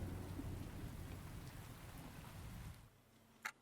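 Steady rain in the beaver colony-building game Timberborn, a dense hiss with low rumbling that carries on for a few seconds, then drops away to near quiet, with a brief sharp burst just before the end.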